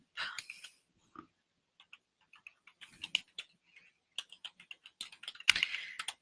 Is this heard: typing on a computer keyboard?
yes